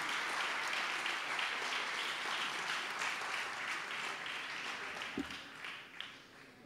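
Steady applause from an audience at a photography-reading contest award ceremony, moderately distant and continuous, with a couple of sharper individual claps near the end.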